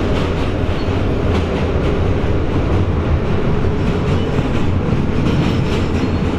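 A New York City subway train rumbles loudly and steadily throughout, with a continuous roar of wheels on rails and faint clacking, no voices.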